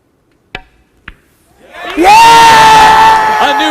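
A billiards crowd erupts into loud, sustained cheering and whooping for pool player Efren Reyes at the King of the Hill Invitational final, preceded by two sharp ball knocks in near silence, with one voice holding a long shout.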